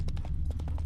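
Hooves of the horse Roach clip-clop rapidly in The Witcher 3, a quick run of galloping beats over a steady low hum, close and fairly loud.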